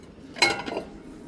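A large store bowl clinks and rattles briefly as it is handled on a shop shelf, a single close ceramic chink with a short ringing tail over quiet room tone.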